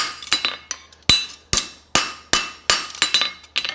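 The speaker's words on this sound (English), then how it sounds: "So I just finish my nail holes" A bullet stamp is hammered to punch nail holes in a forged hind preventer horseshoe, giving about nine sharp, ringing metallic strikes at a steady, fairly quick pace, close and loud, with no talk.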